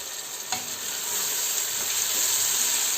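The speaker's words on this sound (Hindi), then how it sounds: "थोड़ा सा इसको थोड़ा सौते कर लें हम" Two roughly chopped medium tomatoes sautéing in a hot pan for chana masoor dal, giving a steady close sizzle with a faint stir near the start.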